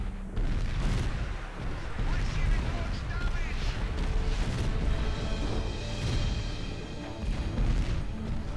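Units in a strategy game force firing on a point, giving dense, continuous rumbling artillery booms and gunfire crackle that last the whole stretch, with talk running underneath.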